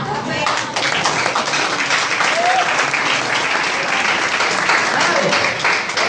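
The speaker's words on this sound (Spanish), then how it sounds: "Un aplauso al Señor" A church congregation gives applause for the Lord, dense and sustained, loud and close for the whole stretch, with a faint voice now and then beneath it.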